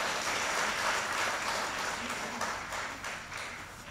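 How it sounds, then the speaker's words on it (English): Applause at an award ceremony honoring a scholarship founder: dense steady clapping from a seated audience that slowly thins and softens toward the end. "We had to give him an applause."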